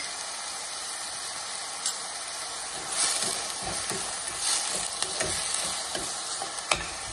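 Onions fry in hot oil in a pan with salt and turmeric, a steady close sizzle broken by scraping stirs and a few sharp taps of the spatula, no voices over it.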